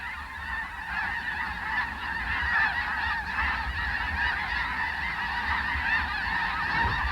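A huge flock of snow geese, thousands strong, honk continuously on open tidal flats, a dense distant chorus of overlapping calls with no voices.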